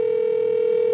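A desk phone plays a single steady, clean beep, loud and close, lasting about a second with nothing else heard.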